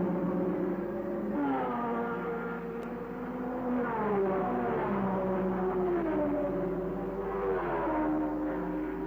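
Formula 1 cars of the 1970 Italian Grand Prix at Monza passing at the end of the first lap, layered engine wails rising and falling in pitch as cars go by at moderate distance, with a steady low hum beneath.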